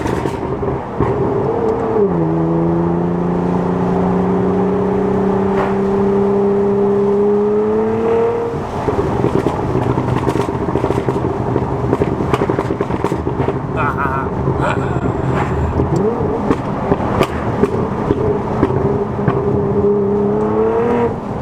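A Nissan GT-R with a straight-pipe exhaust accelerates hard from inside the cabin, its engine tone climbing, dropping at a shift to second, then pulling again with loud, raspy continuous exhaust noise.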